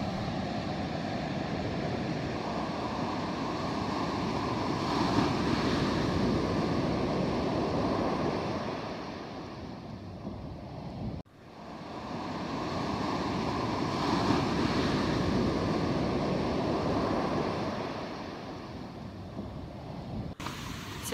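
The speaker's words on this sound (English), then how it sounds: "there's a fair bit of wave action" Continuous roar of ocean surf breaking on the beach at Playa Zancudos, steady and loud, with gusts of wind buffeting the microphone and a brief dip midway.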